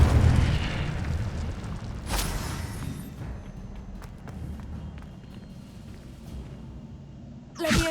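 A burst from the Incendio fire spell cast in Hogwarts Legacy, a loud whooshing blast near the start followed by a rumbling low crackle, with a second sharp burst at the very end.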